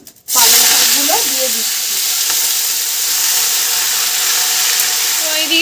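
Black cumin, dried chili and black mustard seeds hit hot oil and burst into a loud, steady sizzle with a hiss, close up. It keeps going without a break for about five seconds, with faint spatter and a little stirring underneath.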